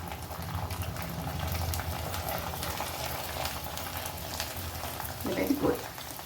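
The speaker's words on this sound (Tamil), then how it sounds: "இப்போ வந்து இதில் நம்ம பொறிச்சு பார்க்கலாம் எண்ணெய் நல்ல காய்ச்சல் இருக்கணும்" Thalir vadam, a thin leaf-shaped papad, frying in well-heated oil, giving a steady soft sizzling and bubbling hiss throughout with a slightly louder burst of crackle near the end.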